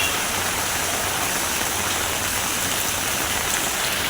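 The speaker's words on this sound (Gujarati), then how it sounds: "આજે કેટલું વરસાદ થાય પાણી ભરાય છે" Heavy rain pours down on a waterlogged residential area in Vadodara, a loud, dense and unbroken hiss of falling water that continues throughout without any voices.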